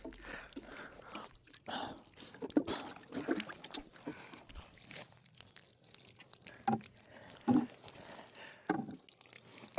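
Water soaks into soil in a kiddy pool container, a quiet close trickle and drip with scattered crackling, uneven bursts rising and fading over several seconds, no talk.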